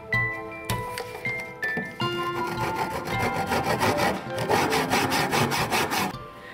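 Steady back-and-forth sawing while cutting a V notch in wood for a hinge, close and continuous, with rasping strokes that quicken toward the end.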